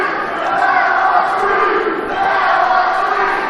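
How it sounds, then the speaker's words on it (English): A professional wrestling arena crowd roars and shouts in protest at a referee's pinfall count, a loud, sustained wall of voices with no break. "This crowd disagreeing with the counting of Tommy Trueblood."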